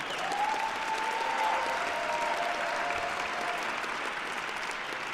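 Audience at a graduation ceremony applauding the graduating class, a steady wash of many hands clapping at moderate distance, sustained without break across the whole stretch.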